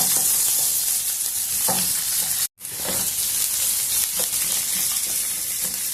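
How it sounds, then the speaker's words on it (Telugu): Chopped onion and capsicum fry in a pan for capsicum rice, a loud, steady close sizzle with stirring scrapes. The sound cuts out briefly near the middle, and no one speaks. "ఆనియన్ ముక్కలు వేసుకొని కొంచెం వేసుకున్నాము మరి ఎక్కువ ఎర్ర కావాల్సిన అవసరం లేదు ఊరిక ఒక్క రెండు ఒక నిమిషం అట్లా వేయించుకొని ఇంకా క్యాప్సికం వేసుకున్నాము"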